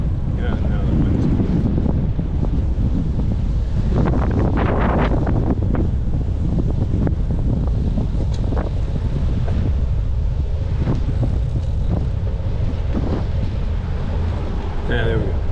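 Strong wind roars and buffets the microphone steadily throughout a bike ride past the Riverside Dam, loud and continuous, with faint voice fragments buried underneath.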